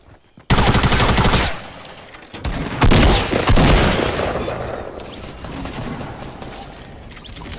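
Rapid automatic gunfire in Fortnite Battle Royale, a loud sustained burst followed by more bursts and single shots that trail off into quieter echoing fire, with no talk over it.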